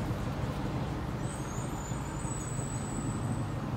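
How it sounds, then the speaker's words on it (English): A 2003 Mercury Marauder with aftermarket mufflers idles with a steady low rumble, slightly louder than stock, and a faint thin whine rises partway through. "it's got some mufflers. So it sounds a little bit louder than stock"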